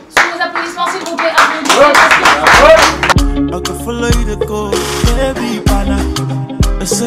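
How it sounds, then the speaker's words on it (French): At a Kingfm radio event marking a partnership with Motorola, an audience claps loudly for about three seconds amid some voices, then a bass-heavy music track kicks in and takes over. "sous les applaudissements s'il vous plaît"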